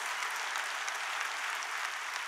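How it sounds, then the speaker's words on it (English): Congregation in a church worship service applauding and clapping hands in praise, a steady, even wash of many hands lasting throughout, moderately distant and fairly soft, with no talking. "Give the Lord a hand clap of praise."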